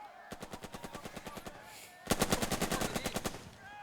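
Machine gun fire in the WWII strategy game Burden of Command: two steady rhythmic bursts of evenly spaced rounds, the second burst louder and closer, with no talking over it.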